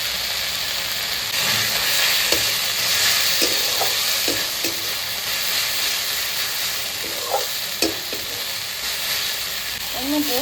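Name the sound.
garlic and ginger paste frying in oil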